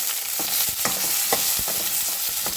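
Onion, curry leaves, tomato and garlic are stirred together in a frying pan, with steady frying sizzle under repeated scraping strokes of a spatula, close and fairly loud, no voices.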